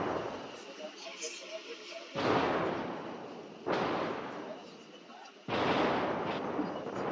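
Heavy naval gunfire in a World of Warships clan brawl: three big booming salvos, spaced about one to two seconds apart, each with a long rumbling decay, over a busy battle background.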